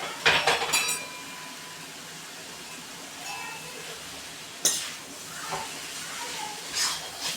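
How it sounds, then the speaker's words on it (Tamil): Soya fried rice with soya chunks and soy sauce is mixed in a pan with a ladle, giving a few clattering metal scrapes and taps, loudest at the start and again near the middle, over a quiet kitchen background. "கரண்டி வச்சு நல்லா மிக்ஸ் பண்ணிக்கோங்க"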